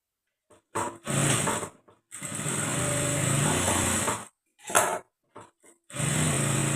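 Domestic sewing machine stitching blouse fabric in a tailoring lesson, running in short bursts and longer steady runs of motor whir separated by pauses, close and fairly loud.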